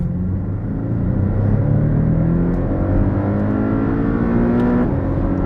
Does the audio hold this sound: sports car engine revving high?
yes